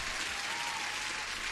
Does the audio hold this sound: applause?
yes